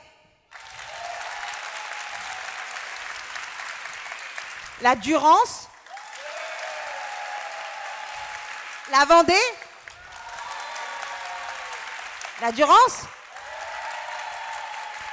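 A festival closing audience bursts into short rounds of applause used as a vote, three loud swells each lasting about a second, separated by a presenter speaking over a steady hall murmur.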